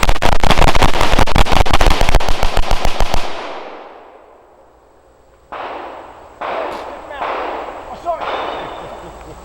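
Carbines fire rapidly at a tactical shooting course, with a dense, loud volley of overlapping shots that stops abruptly. Scattered single shots and short bursts follow after a brief lull, and voices can be heard.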